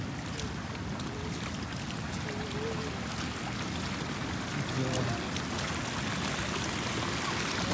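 A river swollen with floodwater during rain rushes in a steady, broadband roar that fills the whole stretch at constant loudness, with faint voices briefly underneath.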